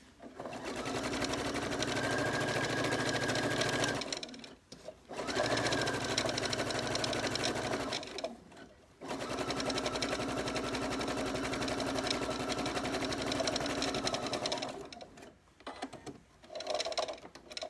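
A sewing machine stitches a children's t-shirt dress in long steady whirring runs, stopping briefly several times between sections before starting again, fairly quiet and close.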